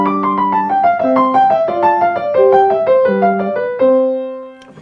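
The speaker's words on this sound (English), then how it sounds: "If I play with no wrist movement at all, it can sound like this." A short piano excerpt from a Beethoven sonatina, played without wrist movement, gives a quick sequence of clear, close notes over repeated low bass tones, ending on a sustained chord.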